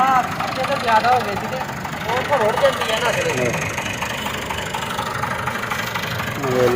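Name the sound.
tractor engine driving sugarcane juice crusher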